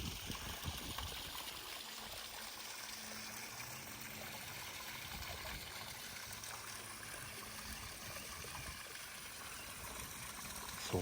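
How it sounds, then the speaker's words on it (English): A garden pond waterfall splashes and trickles in a steady, unbroken wash of running water, fairly faint and heard alone without voices. "So we'll end on the koi and the waterfall."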